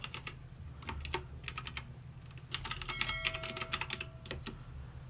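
Close, crisp typing on a computer keyboard while entering a link in a text editor, with irregular bursts of key clacks, brief pauses and a quicker flurry near the middle over a low hum.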